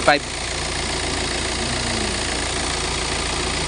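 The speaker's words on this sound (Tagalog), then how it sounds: "ito yung compressor dito ito yung pompa ng compressor" A car engine idles steadily nearby while the air conditioning compressor runs, a constant mid-low drone after a short clunk at the start, with someone speaking over it.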